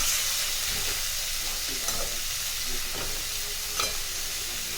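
Mushrooms and peas fry in a covered pan, giving a steady, close sizzle with a few soft clicks from the lid or a spoon.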